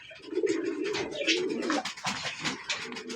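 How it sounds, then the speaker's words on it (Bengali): Black racer pigeons, a male and female pair, coo softly in repeated low throaty phrases at close range, with faint rustling and background noise and no talking. "ব্ল্যাক রেসার কবুতর"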